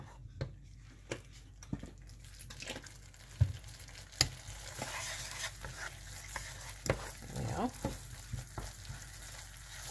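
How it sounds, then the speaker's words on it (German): A cutlet sauce of whisky marinade and orange juice bubbles quietly in a pan, a faint low sizzle and simmer broken by scattered clinks and scrapes of a spoon. "So, das Ganze lassen wir noch mal etwas"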